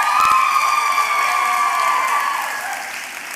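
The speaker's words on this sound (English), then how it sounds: "Let's give her one more round of applause" Audience at a dance recital claps and cheers, with loud whoops and shouts over steady applause that gradually tapers off.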